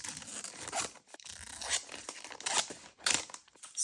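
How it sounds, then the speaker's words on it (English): Scissors snip close and faint through paper to remove a sticky adhesive strip, a short run of crisp cutting and tearing crunches with brief pauses, no voices heard. "Let me cut this sticky part off."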